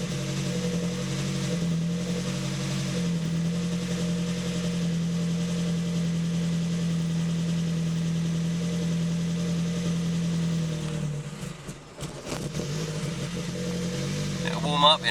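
A Ford Focus engine idles steadily after a cold start while its power steering pump runs without fluid, giving a constant droning hum for about eleven seconds. It then dips and stutters, followed by some clunks and a person speaking.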